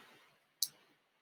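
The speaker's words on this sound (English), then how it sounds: "I can just click on this thing and open up that app." A single sharp computer mouse click, close and crisp, stands alone against a faint quiet background.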